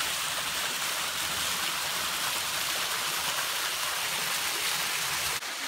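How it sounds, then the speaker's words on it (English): A big waterfall on a Sasayama mountain in Japan roars as a constant broad rushing wash of water, steady and loud throughout. "So this is the big waterfall."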